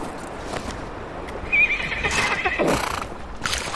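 A horse whinnies in the online fantasy game Lord of the Rings Online, a single bright neigh near the middle, surrounded by soft clip-clop hoofbeats and ambient game sounds, with no talking.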